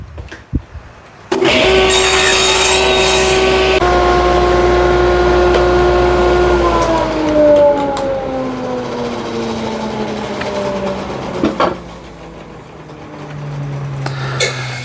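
A power saw trims the end off a wooden piece for a twisty table, a loud sustained whine that starts abruptly, holds steady, then slowly drops in pitch as it cuts through before stopping.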